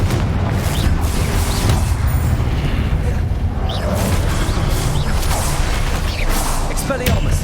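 A Confringo blasting spell bursts in Hogwarts Legacy, a loud, dense rumbling explosion with whooshing debris that fills the whole stretch without a break.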